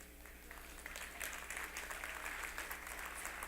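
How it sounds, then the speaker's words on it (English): An audience applauds steadily, a dense wash of many hands clapping at even strength for the whole stretch, close and continuous with no break or talk. "I don't know why you guys are applauding hard bikers"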